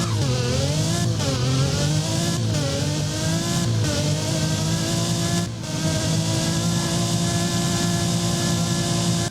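Virtual Pagani Zonda HP Barchetta in the Driving Empire racing game, its engine loud and close, a sustained roar that climbs in pitch through several quick revs, then settles into a steady, strong idle.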